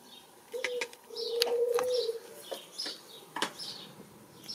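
Young pigeons in a breeder's loft for juveniles give soft, low cooing phrases, one drawn-out coo in the middle, mixed with occasional sharp chirps and a brief flutter, close and fairly quiet, with no talk.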